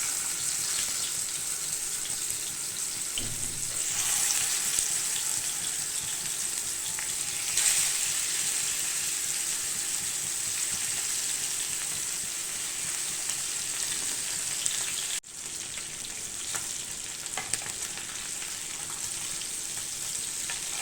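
Masala-marinated fish sizzling and frying in hot oil on a grill pan, a steady close crackle and hiss that runs unbroken throughout.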